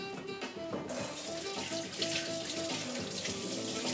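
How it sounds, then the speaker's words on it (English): Water runs from a kitchen tap while hands are rinsed, a steady close splashing stream that grows fuller after the first second. "rinse off the hands a bit"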